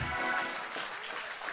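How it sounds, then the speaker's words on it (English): A church congregation claps together, a brief burst of dense applause that is fairly steady and moderately loud. "Come on, clap like you know what I'm talking."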